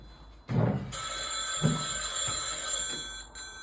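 A telephone rings with a steady electronic trill that starts about a second in and continues, with some low background noise and thumps.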